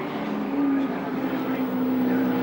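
Touring race cars with 4-cylinder turbo engines at Wanneroo in 1986, a steady loud engine drone with a sustained whining tone that rises slightly, continuous across the clip without clear passes.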